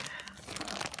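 A plastic package crinkles continuously and loudly up close as it is handled and unpacked, with a dense crackling texture throughout and no talking.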